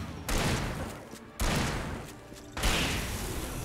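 Shotgun blasts in the Alan Wake video game, three loud booming shots spaced about a second apart, each followed by a long decaying roar.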